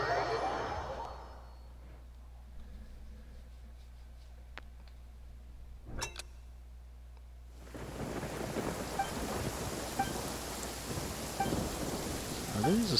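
Rain falls steadily in a Genshin Impact thunderstorm triggered by lightning strikes, with a sharp crack of thunder partway through before the downpour swells into a loud, dense hiss.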